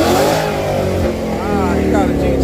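A Ford Shelby GT500 accelerates hard in a street race, its loud engine rising steadily in pitch throughout, with voices talking over it.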